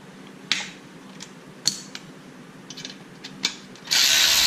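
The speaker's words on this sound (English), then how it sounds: "I'm going to take off these bottom bolts here." A hand ratchet clicks in several short bursts while loosening the bottom bolts on a pit bike engine during a head gasket repair. The bursts are close and crisp, with a louder rush of noise at the end.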